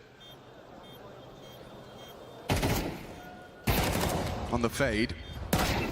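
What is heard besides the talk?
gunfire from the video game Counter-Strike 2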